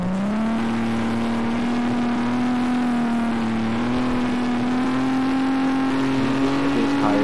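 Car engine held at top speed in Garry's Mod, a steady loud high drone with a sustained whining tone that barely shifts, running alone without talk.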